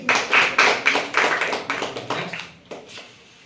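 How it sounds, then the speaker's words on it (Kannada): Schoolchildren in a classroom clap together during a math activity, a close, lively round of quick, uneven claps that fades out, followed by a few last scattered claps. "ಮತ್ತೆ ಚಪ್ಪಾಳೆ ಬರಲಿ"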